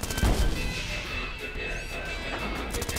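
In the Manual Samuel video game, a shot is fired at a robot: one sharp, heavy blast near the start, followed by a rumbling game soundscape at a steady level.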